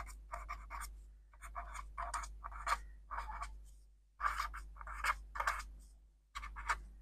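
Pen strokes scratch across paper while someone writes out a maths exercise, heard as close bursts of scratchy writing broken by short pauses, with no talk.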